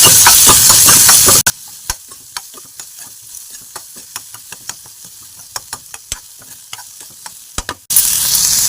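Onion stirred into a pan of frying lentils, chana dal and urad dal, with hing and curry leaves: a loud burst of sizzle, then a quieter stretch of repeated spoon scrapes and knocks, ending in renewed strong frying hiss.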